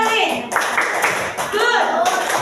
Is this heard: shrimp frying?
no